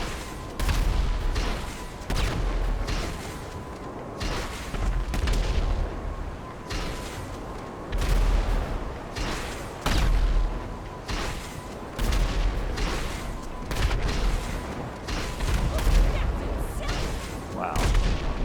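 Repeated weapon hits land on an enemy in a space combat video game, a string of heavy booming impacts and crackling bursts in irregular succession over a steady engine drone, loud and close, with brief talk in between.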